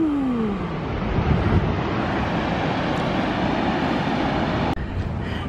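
A waterfall in Rochester, NY pours with a steady broadband roar of rushing water, continuous and fairly loud throughout, with faint background noise near the end.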